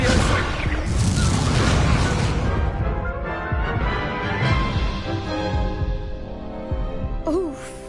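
Heavy blasting-spell explosion from Confringo in Hogwarts Legacy, a thick booming crash that fills the opening seconds and then rumbles and fades into a quieter tail.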